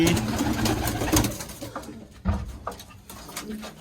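A female pigeon coos nearby in soft, repeated throaty bursts over faint background noise.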